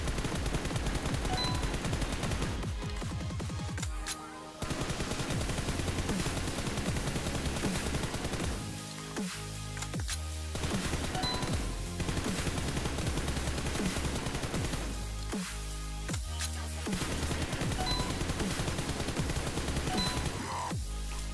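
Continuous automatic gunfire in a PUBG Mobile aim training drill, loud, dense rapid bursts with only brief pauses between magazines, no talking.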